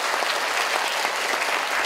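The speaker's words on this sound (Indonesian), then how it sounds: "mari kita tepuk panjang sepanjang-panjangnya" Steady, dense applause from a large group of children and adults at a sanitation workshop, loud and continuous without a break, with no one speaking over it.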